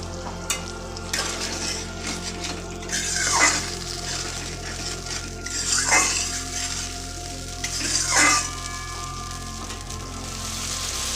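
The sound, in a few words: blended spice paste added and frying in oil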